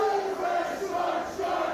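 A wrestling crowd at a Prairie Pro Wrestling match cheers and chants steadily throughout, a loud, sustained roar with no break.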